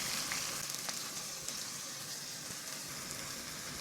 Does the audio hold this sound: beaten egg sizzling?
yes